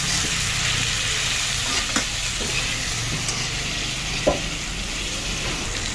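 Pork and vegetables fry in a pan with a steady, loud sizzle that fills the whole span, broken by a few faint stirring clicks and taps.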